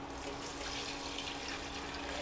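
Fish stock pours with a steady, even splashing rush into a hot pan while making borscht, a continuous liquid stream heard close and alone for a couple of seconds.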